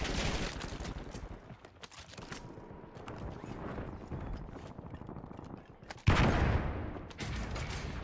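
Rapid bursts of automatic gunfire and explosions in a Call of Duty Warzone match, dense and loud throughout with a sharp heavy blast near the end, plus brief game voice callouts.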